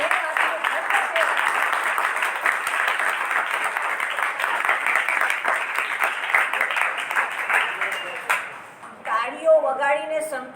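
Audience at an inauguration ceremony for a religious school in a boarding hall claps in sustained, dense applause for about nine seconds, which fades as a voice begins speaking.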